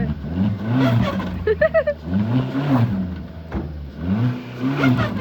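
A car stuck in deep snow during heavy snowfall in Manali revs hard, its engine rising and falling in repeated surges up close, with brief clattering bursts and faint voices in the background.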